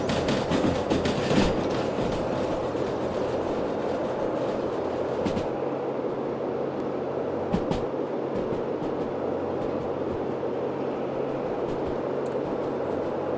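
A locomotive in the train simulator Derail Valley labors steadily with a heavy, continuous rumble and rhythmic rail clatter, close and unbroken for the whole stretch, with a few sharper knocks along the way.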